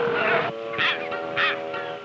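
An angry gull calls harshly several times at a Steller sea lion bull on a rookery. The cries are loud, close and cawing, and come in short repeated bursts.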